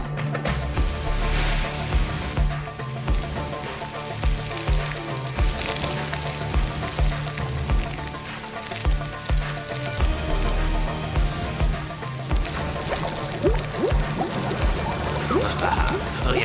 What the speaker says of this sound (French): mettez-moi cette pompe en marche